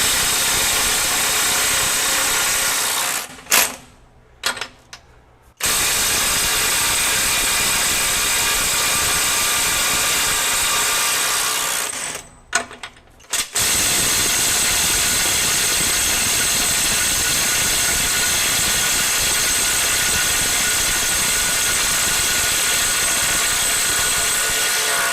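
A Kobalt 24V brushless impact driver hammers steadily and loudly at a stuck bolt, with two short pauses as the trigger is released, then keeps running continuously until the bolt breaks free.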